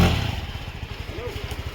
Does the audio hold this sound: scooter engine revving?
yes